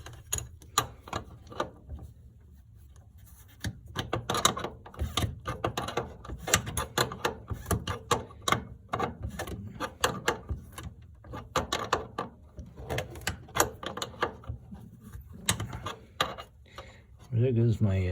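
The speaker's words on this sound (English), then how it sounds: "It's my wrench in the inside just spinning around." A wrench spinning loosely while tightening a fitting on a 1966 Dodge Dart GT's Super Six two-barrel manifold, with irregular metallic clicks and rattles in bursts, fairly close, and brief movement noises between.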